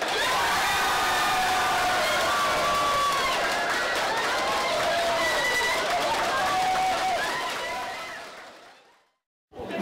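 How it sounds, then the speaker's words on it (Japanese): Loud, sustained cheering and applause from a crowd at a public viewing of the Paris 2024 Olympic men's wrestling final, as Kusaka Nao wins gold. The roar gradually fades away near the end. "会場は大歓声とともに歓喜の渦に包まれました"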